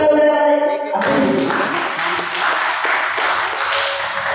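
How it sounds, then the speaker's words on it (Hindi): Applause from an audience at a stage event breaks out after a short musical tone and continues as broad, steady clapping, fairly loud and close, for the remaining few seconds. "तो एक बार जोरदार तालियां हो जाए"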